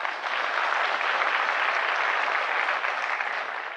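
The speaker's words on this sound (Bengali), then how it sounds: "কুলিন দেশাই নামে একটা হাততালি আমরা দিতেই পারি" Audience clapping together at a motivational business talk, steady and dense applause filling the whole stretch with no voices over it.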